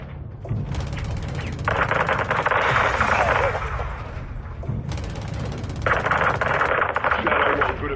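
Sustained automatic gunfire in the video game Call of Duty: Modern Warfare 2, with two loud, dense bursts of rapid shots layered over a rumbling battle background.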